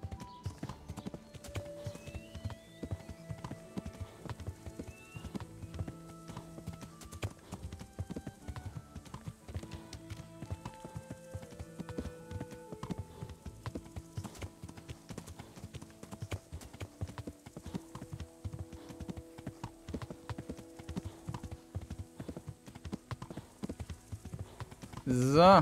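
Riding a horse in Kingdom Come: Deliverance, a steady stream of clip-clopping hooves with occasional whinnies, running under a man's speech for the whole stretch.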